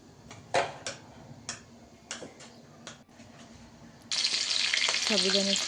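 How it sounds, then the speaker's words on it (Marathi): A quiet pan gives a few sharp ticks and knocks, then a loud hiss bursts in as tempering hits the pan for sabudana khichdi and the frying keeps sizzling strongly to the end. "साबुदाण्याची खिचडी पटकन फोडणी वगैरे घालून देते आता"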